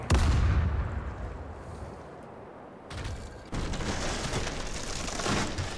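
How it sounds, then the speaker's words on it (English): Shore battery cannons fire in the Caribbean Legend naval game, a heavy low boom opening loudly, then rumbling bursts and distant reports rolling on through a noisy, busy battle soundscape with no talking. "that's the battery firing"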